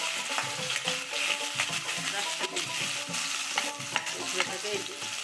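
Two onions and two green chillies fry in a pan for Maggi noodles, with a close, steady sizzle and a spoon clinking and scraping in uneven stirring strokes throughout.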